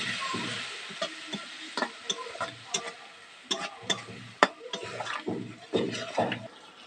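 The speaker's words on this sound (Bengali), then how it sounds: "এবার এটাকে কষিয়ে নেবো।" Okra sautéing in a pan with a little chilli powder, a steady sizzle broken by repeated scraping and knocking of a spoon against the pan, fairly close, with no talk.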